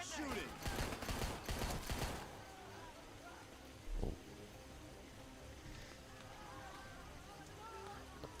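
Rapid video game gunfire in a bad shooter: a dense volley of shots crackles for about two seconds, then a single isolated blast follows after a pause, with quiet background sound afterward.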